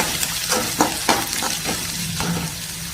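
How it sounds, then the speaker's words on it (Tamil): Onions sautéing in a pan with mustard seeds and curry leaves, a steady close sizzle with a few sharper pops and stirring scrapes across a short stretch, no talking. "கடுகு போட்டு கருவேப்பிலை, வெங்காயம் போட்டுட்டு வெங்காயம் வதக்கிக்கலாம்."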